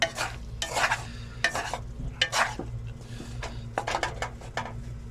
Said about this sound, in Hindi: ये चावल को अच्छी तरह इसमें तेल में मिक्स करके तो इसको लगाएंगे दम